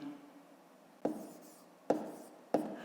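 A pen writes numbers on paper during long division in a fifth-grade math exercise: three short, distinct scratchy strokes, close and clear, separated by quiet pauses.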